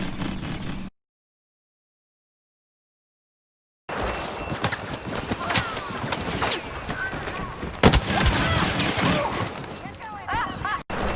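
EE4 blaster rifle fire in Star Wars Battlefront, a burst of sharp shots after a dead-silent gap, with rapid repeated cracks and clatter running to the end, fairly loud with a voice talking over it.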